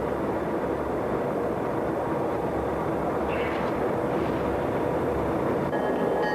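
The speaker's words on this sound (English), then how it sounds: "GP38 ACs number 4118 and 4155 move out to form a power team for a soon-to-leave train." Pair of GP38 AC diesel locomotives, numbers 4118 and 4155, moving out together, giving a steady, loud, broadband rumble that holds throughout, with a faint brief tonal squeal midway and near the end.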